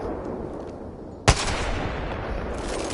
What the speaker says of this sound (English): it's a 50 cal sniper. Like, Kraber 50 cal sniper.